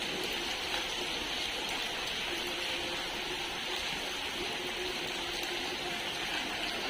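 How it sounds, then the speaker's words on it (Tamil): Heavy rain falls in Chennai as a dense, constant hiss of steady downpour, even and unbroken throughout, fairly soft in level with no voices. "இங்கே நல்ல மழை"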